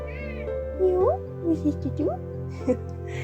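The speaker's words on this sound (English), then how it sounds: "my cat is meowing in the background" Several short, close meows from a house cat rise and fall in quick succession over a faint background hum.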